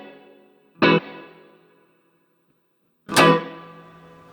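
Two loud electric guitar chords struck about two seconds apart through a BOSS multi-effects unit on spring reverb, each ringing out with a drawn-out, washy reverb tail; no voices.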